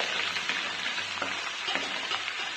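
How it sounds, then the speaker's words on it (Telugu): Ginger garlic paste sizzles and fries steadily in hot oil in a pan, a continuous close crackle with occasional brighter pops, no voices. "ఇప్పుడు ఆ కాగినటువంటి ఆయిల్లోనే మనం అల్లం వెల్లుల్లి పేస్ట్ వేసుకుందాం."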